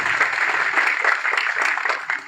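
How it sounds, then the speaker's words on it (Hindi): Crowd applause at a live political rally in Budhni, Sehore district, Madhya Pradesh, a steady wash of clapping from a large outdoor audience lasting a couple of seconds at moderate loudness. "तालियां आपके लिए।"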